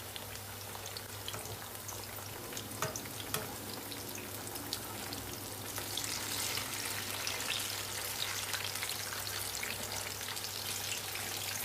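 Steady oily sizzling and crackling of eggplant slices frying in a pan, growing slightly louder and busier partway through, with a faint low hum underneath.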